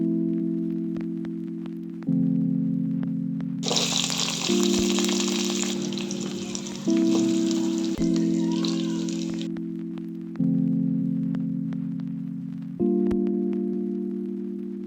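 Onion, tomato, chili, cumin, mustard seeds and curry leaves fry in a pan for North Karnataka-style green gram curry. A bright sizzle rises for a few seconds over steady, stepping background music, then fades.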